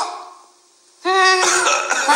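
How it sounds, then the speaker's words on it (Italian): A single sharp cough bursts out loud and close after a quiet moment in a school bathroom scene of a Doraemon cartoon, alone without talk. "Chi è che ha tossito?"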